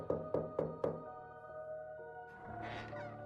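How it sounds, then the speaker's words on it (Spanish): Four firm knocks land on a door in quick, even succession, followed by a lingering resonant tone and a softer rustling shuffle afterward. "Poco después oí a West llamar a mi puerta."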